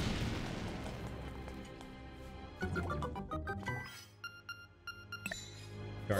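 A bomb exploding in Link's Awakening, a burst of crunchy blasts followed by a run of bright chiming game tones that ring out and fade.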